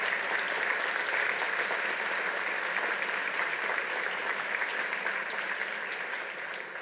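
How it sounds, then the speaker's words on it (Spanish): Audience applause at the inauguration ceremony of Godoy Cruz's mayor, Diego Costarelli, a dense, even clapping from many hands sustained for nearly seven seconds before easing slightly at the end. "le pido un aplauso para la gente de los jardines maternales que está acá"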